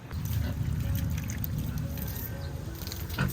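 Water pours steadily from a hose while backyard pigs are washed, a continuous splashing trickle with low-pressure flow, close and fairly loud throughout.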